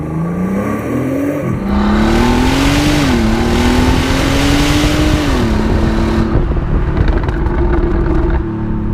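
A 2017 Bentley Continental Supersports with an 8-speed automatic accelerates hard. The engine is loud and close, its note climbing steadily and dipping briefly at gear shifts, then easing off near the end.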